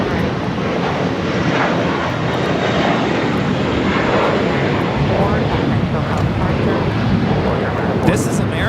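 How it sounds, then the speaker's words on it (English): American Airlines A321 taking off from LAX toward JFK, a loud, steady broadband jet engine roar sustained throughout with wind rumble, no break in the noise. "This is American Airlines Flight 4 taking off to JFK on the A321."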